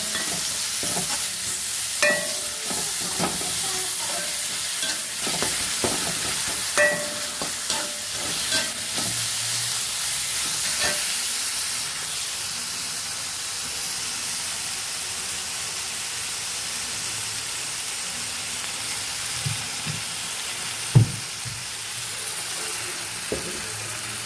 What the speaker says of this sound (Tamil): இஞ்சி பூண்டு போட்டு வதங்க விட்டுதாயா தக்காளி போடணும்